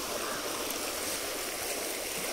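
Water runs steadily along a stream where crabs are being caught, a constant close rushing wash with no voices.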